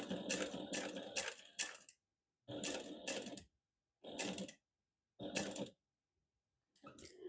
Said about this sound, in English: I do pivot when I do the 1/4 inch top stitch. I pivot with the needle down and turn just like if it was a rectangle.